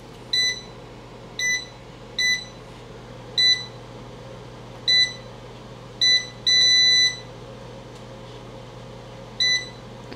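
An air fryer beeps repeatedly while being set up, giving about nine short, clear electronic beeps at irregular intervals, including one longer tone, over a steady low hum, with no talk.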